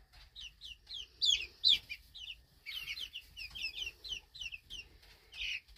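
Bantam Chinese Crested Silkie chickens cluck in short repeated chirpy bursts, near and moderately loud, with brief pauses between clusters and a faint low rumble beneath.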